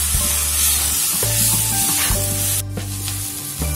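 Vegetables for veg noodles fry in a pan with a loud, continuous hissing sizzle over a low, droning hum that cuts in and out, with no speech.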